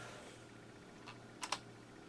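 Quiet room tone broken by a few soft clicks, then two sharper key taps close together near the end, on the keyboard of an old computer being revived after failing.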